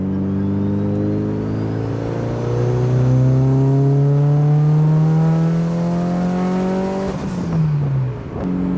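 A tuned Mitsubishi Evo accelerates hard in third gear, its engine note climbing steadily in a loud, close rising drone for several seconds before dropping off sharply near the end.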